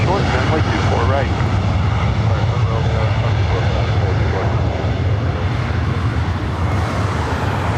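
An airplane roars steadily at LAX airport as a loud, continuous engine rumble that fills the whole stretch without letting up.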